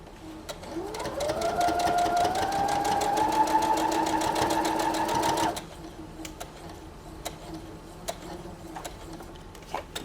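A sewing machine stitches a burp cloth in a steady, fast, loud run for about five seconds and then stops, leaving a few soft clicks and handling noises at close range.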